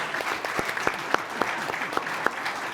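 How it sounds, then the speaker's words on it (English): A small audience at a township meeting claps for a speaker, scattered individual claps forming loose, uneven applause that is fairly close and moderately loud. "I think we owe this gentleman a round of applause"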